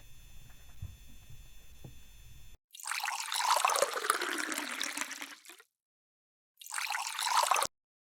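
Water from a fish bowl pours and splashes into a bucket in two bursts, the first longer, after a quiet hum, with silence between the pours.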